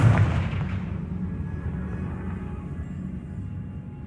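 Confringo blasting spell detonates with one loud, heavy boom that fades into a long, low rumbling roar over several seconds, with no voices.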